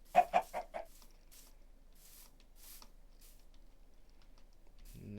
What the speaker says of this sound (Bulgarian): Има нови вид кокошки.